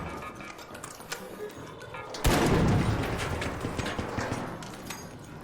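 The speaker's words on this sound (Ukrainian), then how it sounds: "Це хтось під нами стріляється?" Gunfire in ARC Raiders erupts suddenly partway through as a loud burst of rapid shots, preceded by quieter scattered clicks and followed by a sustained rumbling volley that slowly fades.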